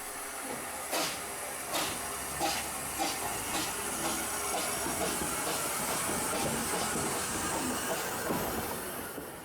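A steam train on the narrow-gauge Lynton & Barnstaple Railway departs a station, chuffing away with regular puffs and steam hiss over a rumbling, clattering background, the beats gradually smoothing into a steady roar.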